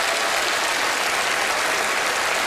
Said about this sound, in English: A big round of applause for our very observant spectators.